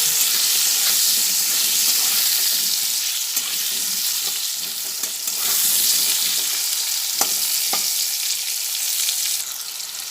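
Potatoes seasoned with turmeric and salt fry in hot oil for a vegetarian jackfruit curry, a steady close sizzle running throughout with a few sharp pops and stirring clicks, no voices.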